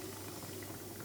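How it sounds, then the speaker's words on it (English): A full 330 ml can of Diet Coke boils and bubbles in a pan, a brief, steady, soft fizzing simmer heard close and alone. "And it is starting to bubble already."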